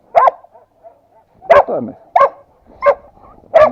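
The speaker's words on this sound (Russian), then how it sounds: "молодой пес какой-то." A young dog barks loudly and close by, five sharp barks at uneven intervals with a brief whimper between two of them, outdoors in a village.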